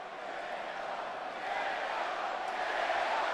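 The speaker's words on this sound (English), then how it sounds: "Vegas crowd chanting for Diego Sanchez" A Las Vegas arena crowd at a UFC 257 bout chants for fighter Diego Sanchez. The chanting is a dense, distant roar that swells slightly partway through.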